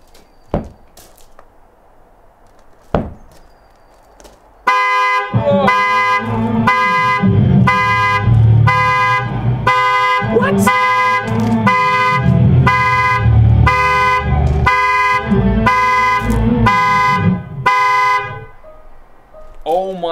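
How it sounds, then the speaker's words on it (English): Loud Tesla car horn blaring in rapid repeated honks during a Sentry Mode security test, starting after a few seconds of quiet knocks and continuing insistently for about thirteen seconds before cutting off. "it played the horn, which is incredibly loud"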